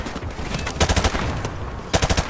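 Bursts of rapid automatic gunfire from Call of Duty Modern Warfare Remastered, loud and close, with a short rattling volley early on, then a second burst after a brief lull, no talk over it.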